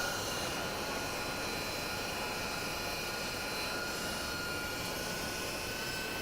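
A meat grinder extruding caserecce pasta at a culinary showcase, a steady, loud motor whir with broad hiss and a constant high whine, running alone without pause.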